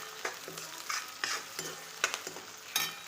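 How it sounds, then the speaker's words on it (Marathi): Ingredients for homemade noodles are sautéed and stirred in a pan, a steady sizzle broken by regular scraping strokes of the spoon, close and clear. "याला पण पूर्ण छान परतून घेऊया।"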